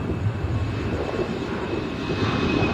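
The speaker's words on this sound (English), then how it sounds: "It's not the wind, it's the airplane." An airplane passes overhead outdoors, a continuous low, rumbling roar that holds steady throughout with no talking.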